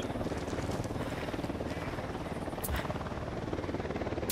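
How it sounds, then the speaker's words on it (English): A helicopter in the video game Ghost Recon Wildlands, its rotor making a steady, fairly faint thrumming buzz that holds evenly throughout, with no voices over it. "Chopper incoming."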